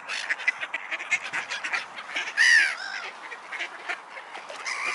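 Ducks quacking on a pond, with repeated nasal calls at varying distances and one louder, harsher squawk in the middle, over faint outdoor background.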